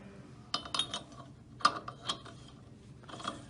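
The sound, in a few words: installing locking washer on SKF bearing adapter nut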